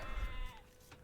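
A sheep bleats once in the Age of Empires video game, a short, clear wavering call that stands out plainly in the game audio.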